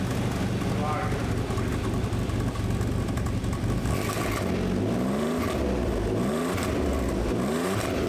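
An Alfa Romeo 147 GTA engine, freshly rebuilt, idles with a low throb, then revs up and down several times in rising and falling surges, heard close at the exhaust and loud.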